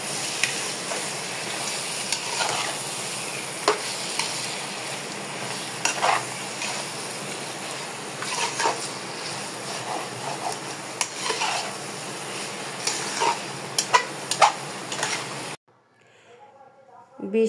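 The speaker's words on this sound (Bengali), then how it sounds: "বিশ থেকে 25 মিনিট ধরে আমি ভালো করে কষিয়ে নিলাম মাংসটা" One kilogram of meat stir-fried in spiced oil, with a constant sizzle and frequent scraping clinks of a spatula against the pot, close, before a cut to near silence near the end.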